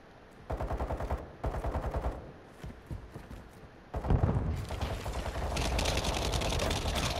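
Rapid automatic gunfire in a video game shootout comes in several sharp bursts, then a louder, sustained stretch of shooting near the player, with no talk over it.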